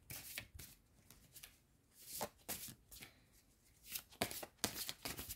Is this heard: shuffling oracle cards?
yes